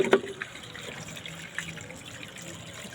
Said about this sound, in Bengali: এইগুলা ধুবো সবজিগুলা